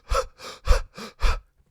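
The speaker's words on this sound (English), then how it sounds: "I'll just breathe in very sharply." A person performs five quick, sharp, shallow in-breaths in a rapid, evenly spaced, panicked rhythm, close and clear, with no talk over them.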